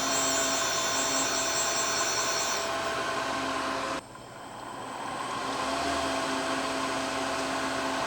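Steady high-pitched whine of a valve grinding machine refacing a valve from a 134ci Willys Jeep Hurricane engine, a continuous motor drone that briefly dips and changes tone midway before resuming.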